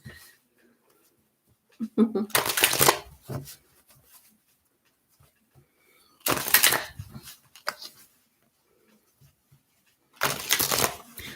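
A tarot deck is shuffled by hand in three short, crisp bursts of riffling, close by, with quiet pauses between them.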